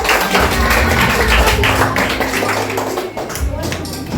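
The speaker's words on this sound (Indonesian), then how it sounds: "tepuk tangan" A classroom group claps hands in a quick, dense burst of taps, loud and close, with voices talking over the clapping.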